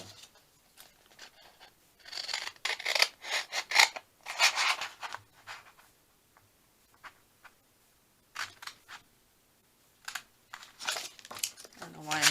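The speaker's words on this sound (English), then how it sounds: "I don't know why I'm using these big scissors." Big scissors snip and crinkle through paper in several close bursts of cutting, separated by pauses, with someone speaking softly between them.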